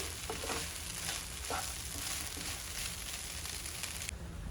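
Poha (flattened rice) tossed with masala in a hot pan, with a steady close sizzle and frying hiss and soft scrapes of stirring running throughout, cutting off abruptly near the end.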